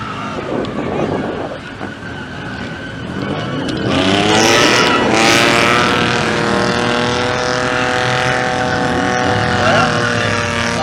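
A twin-turbo car rolls past at a street car meet, its engine building from a moderate rumble to a loud, harmonic roar around four seconds in, then holding a strong, near drone; people talk and shout in the crowd nearby.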